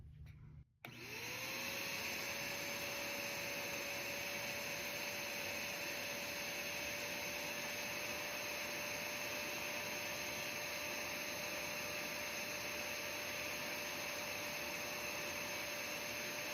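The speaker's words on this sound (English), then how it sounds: "as I pull back, that's when the dirty stuff starts being suctioned out" A BISSELL Little Green Mini carpet and upholstery cleaner whirs up after a brief click and holds a loud, steady suction drone with a sustained whine, pulling dirty liquid from carpet, close and uninterrupted.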